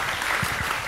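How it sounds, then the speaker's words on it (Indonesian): An audience at a religious gathering applauds a guest named Mas Eka. The clapping is brief, continuous and moderately loud, with a few low thumps underneath. "Tepuk tangan buat Mas Eka."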